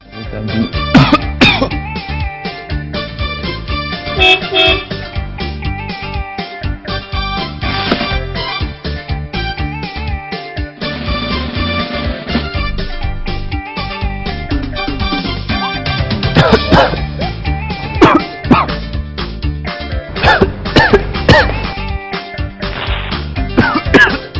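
Repeated harsh coughs and throat-clearing bursts over a busy background, loud and close, recurring irregularly throughout.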